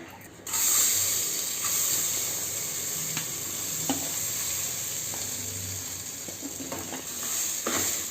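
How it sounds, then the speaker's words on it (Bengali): Whole garam masala dropped into hot ghee sets off a loud, continuous sizzle and hiss that starts suddenly and holds steady, with faint stirring clicks under it. "এখানে গোটা গরম মশলা দিয়ে দিলাম ঘিয়ের মধ্যে।"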